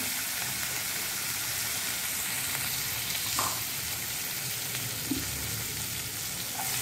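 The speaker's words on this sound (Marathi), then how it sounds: "व्यवस्थित हलवून घ्यायचं आपण" Chili, garlic and onion frying in a pan for a cauliflower, pea and carrot mixed vegetable dish, a steady close sizzle with faint stirring scrapes running throughout, no talking.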